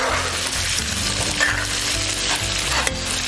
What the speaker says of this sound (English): So you don't deep fry the shrimp into really done.